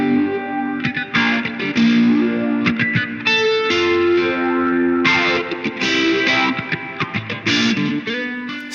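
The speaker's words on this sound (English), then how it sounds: "let's start out with that classic LFO-based back and forth phaser sound from the demo" An EHX Stereo Polyphase pedal runs a classic LFO phaser sweep, roughened by a Greer Soma drive, over a sustained instrument. The sound swooshes back and forth in repeating sweeps, loud and continuous, with no talking.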